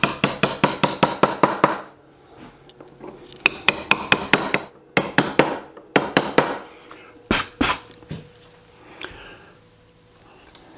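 A mallet strikes a chisel cutting letters into stone, sharp close knocks in quick rhythmic bursts of several blows separated by short pauses, with no talk.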